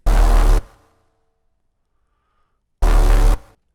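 Two loud, short synth bass notes sound alone, separated by a stretch of near silence, the first trailing off in a brief fading tail.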